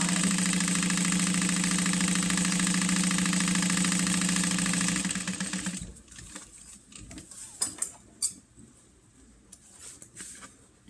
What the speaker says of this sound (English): Making sure to back stitch. And I'm sewing right on top of that line.